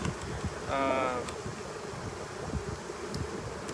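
Honey bees buzz around beehives in a bee yard, one insect passing close with a brief harmonic drone over a faint background hum and light rustling.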